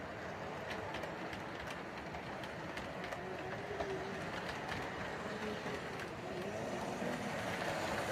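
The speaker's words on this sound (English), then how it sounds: "the HST is going to carry on its journey." A model railway HST pulls away on a layout during a night running session, giving a steady, close rolling rumble with light rhythmic clicks of wheels over rail joints throughout.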